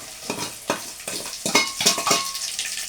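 Garlic sizzles in hot oil with curry leaves in a pan, a soft steady frying hiss punctuated by close stirring scrapes, with no talking.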